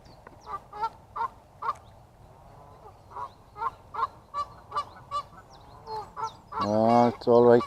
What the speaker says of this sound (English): That's one noisy goose up there.